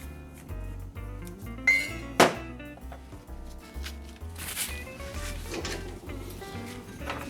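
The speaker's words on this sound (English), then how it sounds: "Let me go ahead and mix that up a little bit, make sure all the sugar is covered in bitters" Sugar and bitters stirred in a glass for a keto Old Fashioned, close clinks and scrapes of a spoon against glass, a few sharper knocks, over a low background hum.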